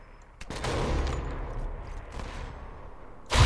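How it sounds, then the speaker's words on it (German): Gunfire in the video game Sniper Elite 4 comes as a dense, sustained volley of shots and rumbling blasts lasting most of the moment, ending in a sudden loud close burst. "Toll, durch Zelt schießen geht nicht."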